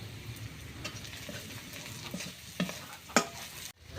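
Dried mola fish cooked with mixed vegetables and spices is stirred and fried down in a pan, with close scraping of a spatula, a low sizzle underneath and a few distinct knocks.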